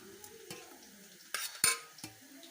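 Onions frying in a pan for gobi manchurian, heard as a soft sizzle broken by a few sharp clinks and scrapes of a utensil stirring against the pan.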